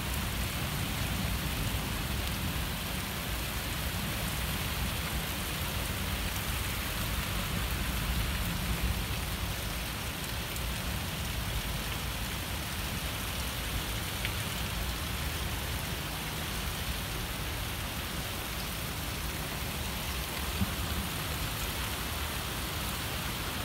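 Steady, dense rain pours down continuously during a severe thunderstorm, a loud even hiss with heavy low rumble beneath, no voices and no letup.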